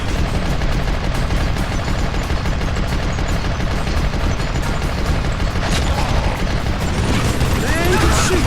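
Dense, continuous gunfire in the Wild West shooter Call of Juarez: Gunslinger: rapid overlapping shots and volleys roar loudly and without pause for the full length.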